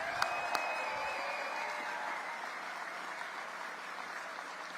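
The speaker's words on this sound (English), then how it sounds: "Let's give them a big round of applause." Sustained crowd applause at a Tim Walz political rally in Milwaukee, a wide, even wash of many hands clapping from a distance, with a couple of sharp nearby claps at the start and faint cheering.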